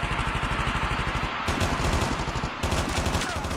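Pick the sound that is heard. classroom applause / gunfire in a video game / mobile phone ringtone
gunfire in a video game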